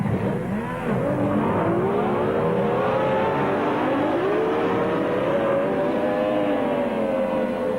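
Racing powerboats at the start of a 1975 race on Bristol Docks, their engines roaring together in a dense, continuous drone that rises in pitch as they pull away.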